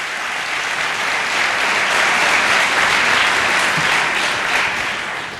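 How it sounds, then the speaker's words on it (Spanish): A church congregation in a Spanish-language service claps loudly and continuously, dense applause from a large crowd that swells slightly in the middle and holds steady with no talking. "Si le va a aplaudir, apláudele fuerte al Rey"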